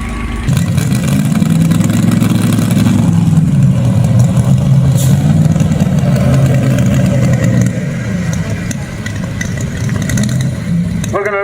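A big block mini tractor competing at a county fair tractor pull roars with a loud, sustained engine drone, revving hard and steady before easing slightly near the end, with a crowd and announcer faintly underneath.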